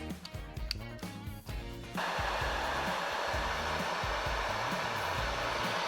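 A heat gun switches on close by to shrink heat-shrink tubing over drone wiring and runs as a steady, loud whooshing blower hiss, with some short clicks and handling noises just before it starts.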